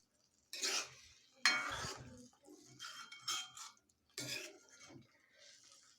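Paneer Kolhapuri gravy stirred gently in a pan, soft intermittent scraping and clinks of a spoon against metal in several short bursts, close and quiet.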